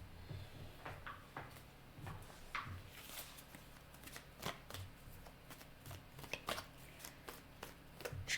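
Tarot cards being shuffled by hand: a steady run of crisp, papery riffles and soft slaps, close and fairly quiet, with no talking.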